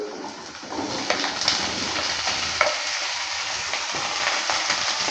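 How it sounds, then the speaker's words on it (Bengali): Potato and kankrol sizzle in a hot pan while being stirred, a dense crackling fry broken by scraping spatula strokes, close and continuous without talk. "আলুটা যখন হালকা একটু ভাজা হয়ে যাবে তখন আমি কাঁকরোলটা দিয়ে দেবো"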